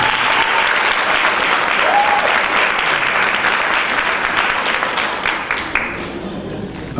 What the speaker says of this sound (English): Let's have a big round of applause for Miss Jaylyn Live.